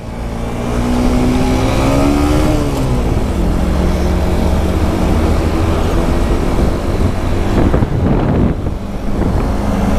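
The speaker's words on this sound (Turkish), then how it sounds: "Reis bir gaz ver." A Honda Varex motorcycle engine revs up loudly close by, its pitch climbing and holding in a sustained roar, with brief throttle blips near the end.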